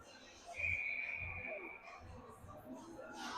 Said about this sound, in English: Goalie holds on and gets a whistle.